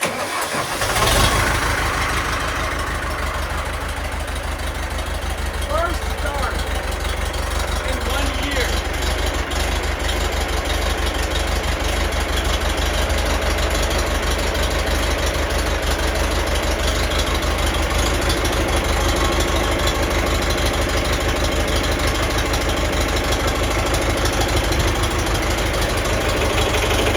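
A car engine running on all but one cylinder cranks and catches, then settles into a rough, steady idle that drones on close by for a long stretch.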